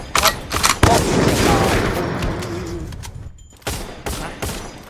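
Rapid bursts of automatic gunfire from the mobile shooter Free Fire, with dense overlapping volleys at close range, a short lull, then further loud bursts near the end.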